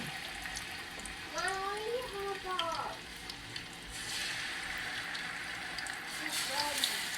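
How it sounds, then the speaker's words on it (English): Fish pieces fry in oil that is not yet very hot, giving a soft, steady sizzle in the background. A voice talks over it. "I end up putting it in. So yeah. Yep, so I'm just gonna let it fry."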